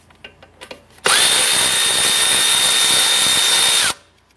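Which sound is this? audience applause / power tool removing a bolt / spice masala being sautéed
power tool removing a bolt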